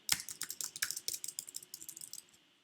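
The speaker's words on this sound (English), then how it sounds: "Start typing." Rapid keystrokes clatter on a computer keyboard in a quick, irregular burst of close, crisp clicks that gradually soften and trail off, with no voices.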